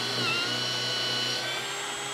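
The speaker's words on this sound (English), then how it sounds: "Drilling a 5/16 pilot hole." A brushless Ryobi OnePlus HP impact driver with a 9 amp hour battery drills a 5/16 inch pilot hole, giving a steady, loud, close whine that holds without a break from start to finish.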